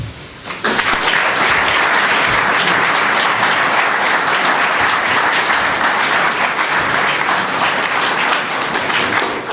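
An audience at a literary reading applauds warmly to welcome the poet Patrick Friesen, with dense, steady clapping that starts abruptly and carries on at full strength throughout.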